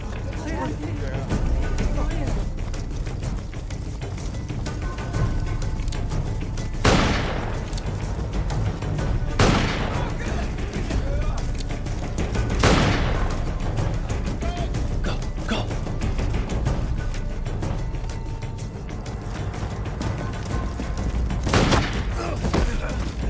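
Gunfire in a tense confrontation: a few sharp, loud shots ring out several seconds apart over a constant rumbling, noisy background.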